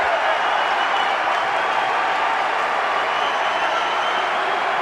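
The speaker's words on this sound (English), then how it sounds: "Crowd on its feet here in Raleigh." Basketball arena crowd in Raleigh on its feet, a loud, dense, continuous roar of cheering and applause filling the space with no break.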